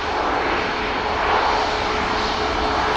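An Airbus A321 airliner touches down at Manchester Airport, a steady, broad engine roar holding at a constant close, loud level with a faint whining tone running through it.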